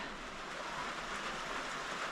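Steady rain falls outdoors on a foggy day, a soft, even broadband hiss with no distinct drops, fairly faint and continuous, with no talking.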